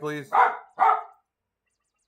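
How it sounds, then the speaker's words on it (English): Several dogs bark nearby during a live severe-weather broadcast at home in Fort Morgan, Morgan County; two loud barks come in quick succession amid brief talk, then silence. "Sorry about the dogs."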